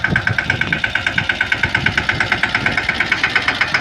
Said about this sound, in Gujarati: યુવરાજ સ્વરાજ ટ્રેક્ટર લઈ